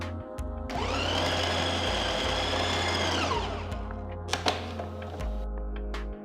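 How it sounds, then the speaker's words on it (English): A food processor grinds dates, its motor whirring loud and steady for a few seconds with a high whine, then winding down, with a few thunks and clicks from the machine. "To the food processor, add the dates and grind them till they become nice and mushy."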